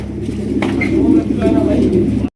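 Yellow German pigeons coo in low, rolling throaty calls, close and loud over a busy background, with a few sharper bird sounds mixed in.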